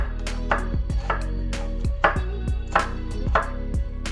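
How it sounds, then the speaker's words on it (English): A knife dices an onion on a cutting board, giving sharp close chops in an uneven rhythm of about two per second, each with a bright wooden knock, with no talk. "So as I'm dicing, what I'm going to do is cut down to that invisible line, flip it over, cut around, and discard the root."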